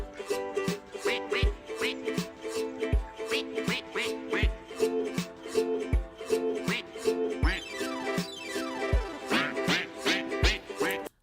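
Rhythmic duck quacks are set to a driving beat and tonal accompaniment, repeating in a tight musical pattern at close, even loudness throughout, with no voices.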